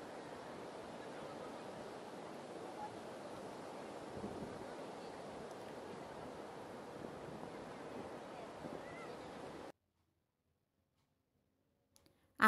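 Sea waves along Marine Drive at Cox's Bazar, with the beach's rocks partly submerged, a steady broad wash of surf mixed with wind noise for several seconds before cutting abruptly to silence.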